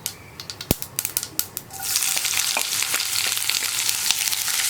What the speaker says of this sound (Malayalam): ഇതിലേക്ക് നമുക്ക് 1 ടീസ്പൂൺ കടുക് ചേർത്ത് കൊടുക്കാം. കടുക് ഒന്ന് പൊട്ടി തുടങ്ങട്ടെ.